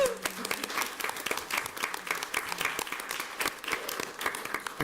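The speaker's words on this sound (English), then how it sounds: "Let's give Mr. Sickett a round of applause." Round of applause from attendees at a school district board meeting, steady scattered clapping from a room of people, moderately distant, lasting the whole stretch.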